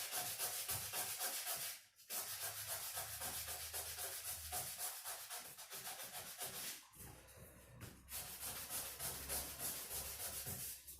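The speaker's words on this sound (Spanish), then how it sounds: "Y empezamos a lijar en un solo sentido." A jewelry piece, Mapuche-style silverwork, is sanded by hand with sandpaper in a single direction, producing continuous rhythmic scratchy rubbing strokes with brief pauses, close and fairly quiet.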